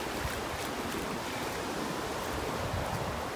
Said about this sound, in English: I'm walking more into the wind now